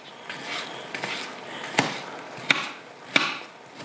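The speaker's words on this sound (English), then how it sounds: "Chopping up my mushrooms." A knife chops mushrooms on a cutting board in a kitchen, a few light taps and then three sharp separate knocks about a second apart, close and clear with no talking.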